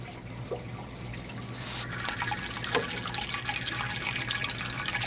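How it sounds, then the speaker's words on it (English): Water pours steadily from a DIY double overflow into an aquarium sump tank, a continuous splashing trickle that swells slightly louder and busier toward the end, with no voices. "The only sound that you hear is the water going into the overflow, or going into the sump tank"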